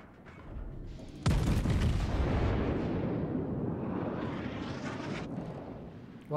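Heavy naval gunfire in a warship game: a sudden loud blast erupts after a quiet start, then rolls into a long roaring rumble that slowly fades, with a faint second thump at the very end.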